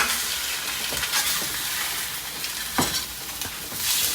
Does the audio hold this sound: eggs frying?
yes